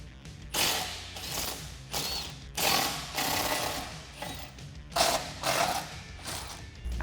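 Power tool spinning out the Torx front bumper bolts on a 1987-2006 Jeep Wrangler, heard as several bursts of rattling, ratcheting mechanical whir with short pauses between them, close and fairly loud.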